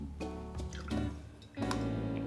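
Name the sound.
Angostura bitters poured from an uncapped bottle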